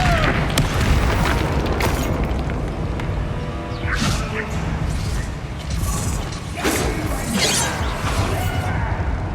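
Magical Bombarda blasts in Hogwarts Legacy go off as loud booming explosions with crashing debris and whooshes, several heavy hits over a dense, continuous rumble of combat.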